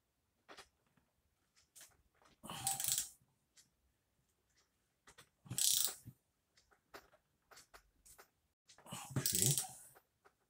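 A hand tool works at a stuck screw while a Derbi 50cc engine is opened, giving scattered metallic clicks and three longer grinding, ratcheting bursts against near silence, close to the microphone.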